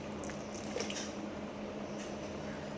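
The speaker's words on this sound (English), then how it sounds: "I will then be adding my tin tomato." Canned tomato goes into a pot of Nigerian stew with a steady, soft, wet squishing and bubbling, faint and continuous throughout.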